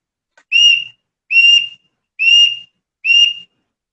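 A high, shrill bird-call whistle, a whistle used to imitate a bird, sounds in four evenly spaced short bursts, each with a slight rising onset, loud and close, alone in silence.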